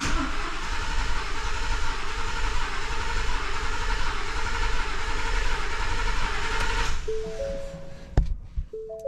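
The Ford F150 5.0 engine cranks over without starting in a continuous, even churning drone that cuts off after about seven seconds, followed by a few short electronic chimes.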